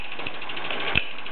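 A Mamod Mk2 toy steam engine driving two line shafts, turning reluctantly with a steady close mechanical hum and faint rhythmic knocks, plus one sharper clunk near the end.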